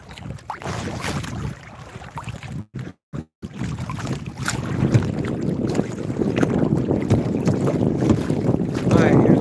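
Strong wind buffets across a lake from a small boat, roaring and gusting against the microphone with brief dropouts, then building louder and steadier toward the end.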